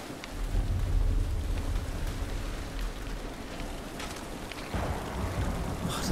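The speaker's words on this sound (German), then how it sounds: "das war nur der Blitz" Steady rain pours in The Last of Us, with a low rumbling thunder swell early on and a sharper crack near the middle, all fairly loud with no voices.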